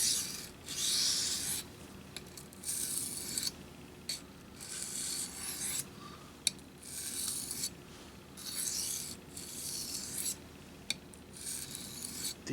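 A cheap knife blade drawn in western strokes across an oiled sharpening stone from a Smiths two-stone kit, a series of rhythmic rasping scrapes, each about a second long with short pauses between, close and fairly quiet.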